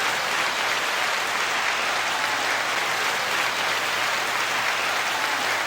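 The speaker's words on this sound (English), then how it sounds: "9-second applause." Sustained audience applause, an even, dense roar of many hands clapping that holds steady at full volume for several seconds without talk.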